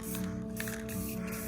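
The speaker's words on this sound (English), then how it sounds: "So I just realized I gotta still spray paint this" Nearly empty spray paint can hisses in short uneven bursts while paint goes onto a cheap four-wheeler, sputtering over a steady background hum.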